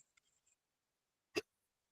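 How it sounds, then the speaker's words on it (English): A single sharp hiccup from a person, brief and distinct after a few faint soft sounds, then quiet. "Sorry, I'm having hiccups."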